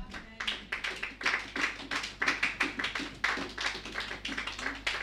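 A church congregation applauds in steady rhythmic unison, claps falling at a regular beat and continuing for several seconds, moderately loud in a reverberant hall.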